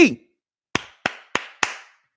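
A brief voice gives way to four sharp, evenly spaced hand claps in a Jason Garrett clap, each one crisp and close with a short ring of room echo.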